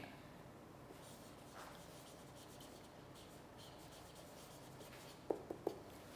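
Pen strokes scratch faintly on paper in a quiet room during an English lecture, a soft rubbing texture with a few small taps near the end and no talking.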